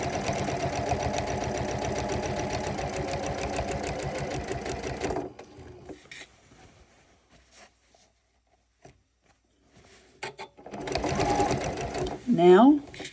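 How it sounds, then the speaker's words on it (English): Janome sewing machine fitted with an A foot and its black leveling button, stitching steadily along a fabric seam for about five seconds, then stopping; a short rattle of handling noise follows, with a voice talking over it. "I'm now stitching on the 3/4 inch"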